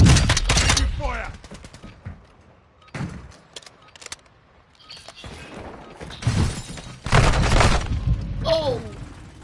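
Gunfire in a video game erupts in loud bursts of rapid shots and impacts, with quieter gaps between volleys and a person talking in between.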